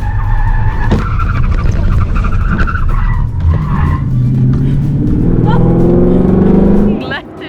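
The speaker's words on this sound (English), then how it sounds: "So I kind of lost control a bit, and I understeered, but then I tried to control the car, I oversteered," A 2018 Ford Shelby GT350 on a track day loses grip and fishtails, its engine roaring loud and steady throughout with tire noise swelling toward the end; the driver's voice carries over the car.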